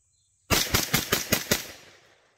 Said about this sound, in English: And just to empty off the magazine.